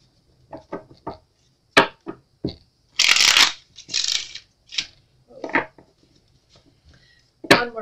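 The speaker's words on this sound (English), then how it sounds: "Shuffle and get started." A deck of tarot cards is shuffled nearby: a string of quick, sharp riffles and taps, then a longer, louder cascading shuffle in the middle, followed by a few more scattered flicks in an otherwise quiet room.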